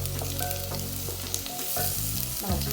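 Peppers and garlic sizzling in a pan for a coconut Caribbean-style soup, a steady loud frying hiss with stirring scrapes, close and without talk.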